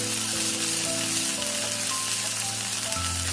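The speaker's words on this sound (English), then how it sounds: "And in this we'll add the crushed ginger, garlic and chili. And some slit green chilies. And we need to saute them for about 1 minute." Crushed ginger, garlic and slit green chilies sizzle steadily in a hot pan for an Andhra chilli chicken gravy, a continuous close frying hiss with no voices.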